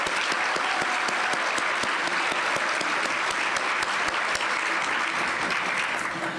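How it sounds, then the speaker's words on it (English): Sustained applause from a school foundation event crowd for early-rising student volunteers, dense and steady with sharp individual claps cutting through, loud and continuous throughout. "So round of applause for everybody."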